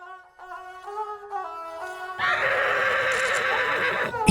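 Horses at the Pushkar horse fair in India give several close, loud whinnies in a row, then a busy wash of crowd and fairground noise with more neighing rises and continues to the end.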